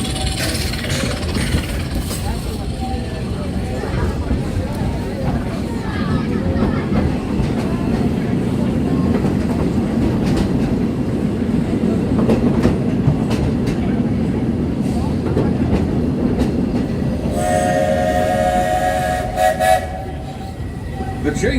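A mine train roller coaster at Magic Kingdom, Walt Disney World, rumbles and rattles along its track in a steady, loud roar, with clanking and a brief high whistle-like tone near the end.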